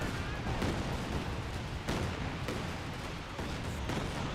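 A rocket barrage in the video game Company of Heroes 2, a rapid string of explosions and booming impacts at moderate distance, with several sharper blasts standing out amid the continuous rumble.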